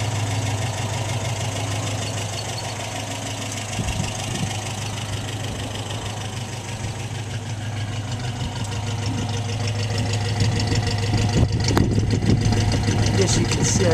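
The 1500 engine of an MG Magnette ZB idles steadily after its first start, a constant low rumble that rises slightly in strength toward the end. A voice talks over it.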